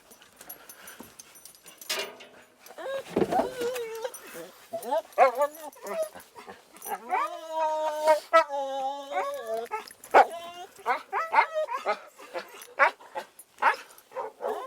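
A hunting dog on a wild boar hunt whimpers and yips in high, wavering whines, breaking into short barks, close by, with a person speaking intermittently.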